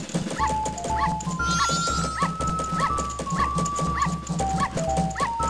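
A dog in Majora's Mask, a video game, gives short, repeated yips and barks in a steady rhythm over loud game music with a low droning bass line.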